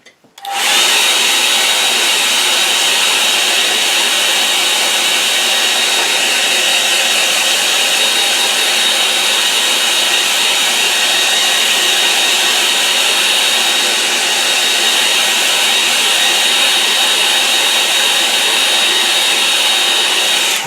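A hair dryer blasts over a watercolour and gouache painting, starting abruptly and then holding a loud, steady, close airy roar without a break for about twenty seconds, with no voices.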